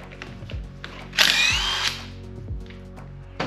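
Pneumatic impact gun loosening a bolt on a DeLorean gearbox in a workshop, one loud whirring burst of about a second amid scattered metallic knocks and clunks from the bench.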